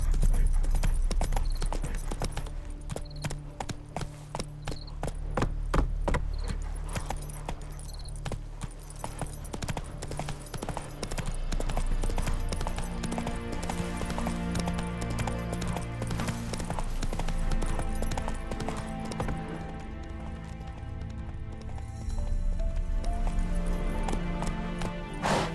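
Roach the horse walks along with a steady, close clip-clop of hooves in an even rhythm, later joined by a busier, overlapping stretch of hoof sounds and a soft whinny.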